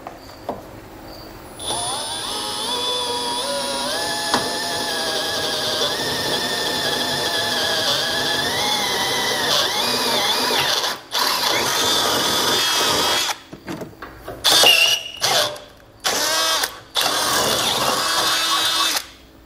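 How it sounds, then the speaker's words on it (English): A power drill with a 3/8 bit bores through the steel frame rail of a 2018 Ford Explorer, a loud sustained whine with rising squealing pitch, then stopping and restarting in short bursts near the end. "So I'm going to use a 3/8 drill bit and work through the frame rail for each one of these."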